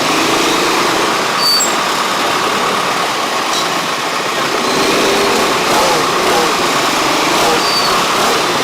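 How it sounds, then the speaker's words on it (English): Busy street traffic in Pampanga, Philippines, with motorbike and car engines droning in a loud, steady wash of idling and passing vehicles, with no pauses throughout. "Traffic."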